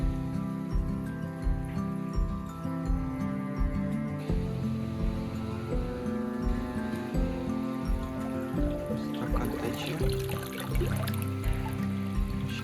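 Water flows and trickles through a newly started Tetra EX 1000 Plus aquarium canister filter, with steady gurgling and bubbling as air clears from the system, plus an underlying hum.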